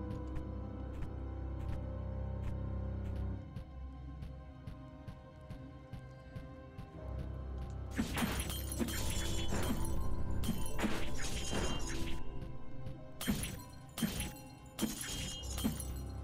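Shrubs being cut in the video game Minoria give off glassy shattering crashes, a dense run of sharp, loud bursts arriving in quick succession over steady background music, with a few more breaks after brief pauses.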